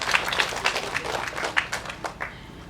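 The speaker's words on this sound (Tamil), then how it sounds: "ஸோ அவங்களுக்கு இந்த நேரத்தில் நம்ம ஒரு கைத்தட்டி பாராட்டு தெரிவிச்சுக்கலாம்" Audience at a Tamil movie audio launch for IAS Kannamma clapping in scattered, moderately loud applause, with uneven claps and no voices over it.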